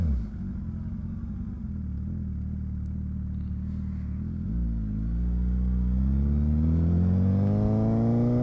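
Motorcycle auto-blipper revving the engine on a downshift during a Sunday ride, a steady mid-pitched engine drone that swells and climbs in pitch as the revs rise, with no talking.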